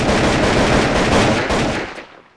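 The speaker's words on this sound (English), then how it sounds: "Then we got the AK-47." Rapid, loud automatic AK-47 fire from a Minecraft gun mod, a dense continuous burst of shots that cuts off and fades out near the end with no talking.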